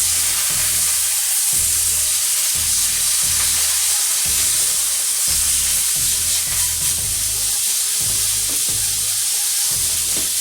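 Steak with rosemary frying in a hot pan, a loud continuous sizzle and hiss close up, with rhythmic low bubbling pops pulsing steadily underneath throughout.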